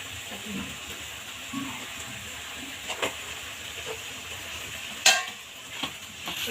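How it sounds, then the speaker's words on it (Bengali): Chicken khichuri with garam masala is stirred in a pot, giving soft scraping and clinking against a faint sizzle, with one sharper metallic knock near the end. "নাড়া দিয়ে দিব ভালো করে।"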